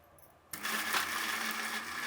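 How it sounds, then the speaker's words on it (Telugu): A mixer grinder grinds masala paste with a little water: after a brief quiet moment it switches on abruptly into a steady, loud whirring drone that holds without a break. "ఇందులో కొద్దిగా నీళ్ళు వేసుకొని మిక్సీ పట్టుకుందామండి."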